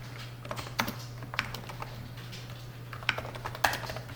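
Fingers tap out a short HTML line break tag on a computer keyboard, a handful of light scattered key clicks with a couple of firmer presses over a low steady electrical hum.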